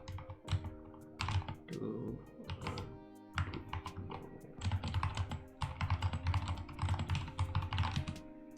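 Close, steady typing on a computer keyboard, with bursts of rapid key clicks and thunks separated by short pauses, fairly loud and continuous across the stretch.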